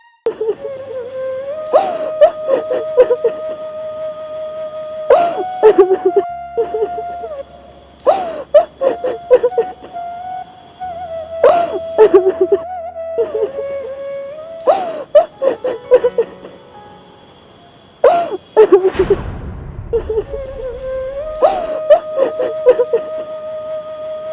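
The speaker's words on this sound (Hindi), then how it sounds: "किसी के रोने की आवाज़ आ रही है वहाँ से।" Someone cries and wails in repeated sobbing bursts, mixed with other vocal sounds and heard alongside background music in a dramatic scene.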